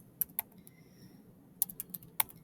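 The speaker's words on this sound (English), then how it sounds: "Now go in and make sure you're typing in correctly the inputs." Numbers typed on a computer keyboard into Desmos, sharp key clicks in two short bursts separated by a quiet pause, close and crisp over a faint background hum.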